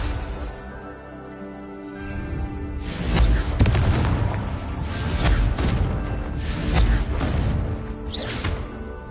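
Confringo fire-blast spell explosions in Hogwarts Legacy, several loud booming blasts with whooshing bursts repeating over a few seconds, close and forceful, with no talking.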